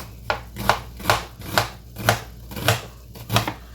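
A knife chops an onion finely on a cutting board, about eight evenly spaced, crisp strokes in a steady rhythm, close and clear with no talk.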